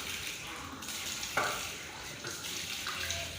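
Water is poured over the arms during wudu ablution, a steady close splashing and trickling that runs continuously with small surges, without any voices.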